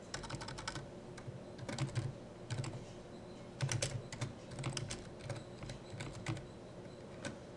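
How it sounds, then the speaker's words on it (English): Typing on a computer keyboard, quiet rapid clusters of key clicks in short bursts with brief pauses, close and faint, no talk. "So you're going to go ahead and type that out."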